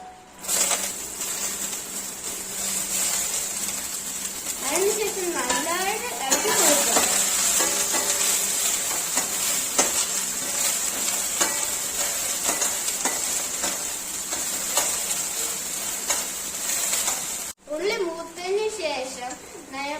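Curry leaves, chilli, ginger and onion fry in a hot pan, a loud continuous sizzle with stirring scrapes, while a voice speaks over part of it.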